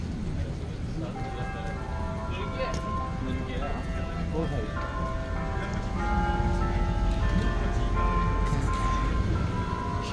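Bells ring with sustained, overlapping tones over a steady background rumble, carrying on throughout at a moderate distance, downtown Montreal at night.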